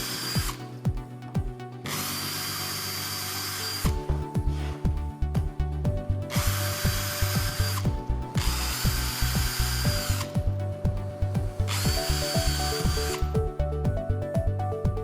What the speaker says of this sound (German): Jetzt bohren wir die Löcher vor.